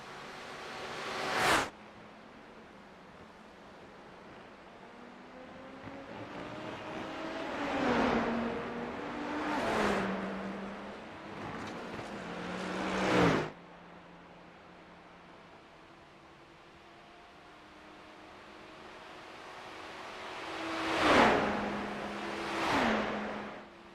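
Endurance race cars at Le Mans pass one after another, each engine swelling from distant to a sharp close peak and fading away, with a quiet gap in the middle and no talk.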